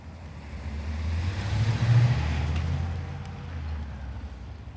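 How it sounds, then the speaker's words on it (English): A truck pulls out onto a residential street, its engine a low rumble that swells to a peak about two seconds in and then fades. "All right, we got a truck coming out."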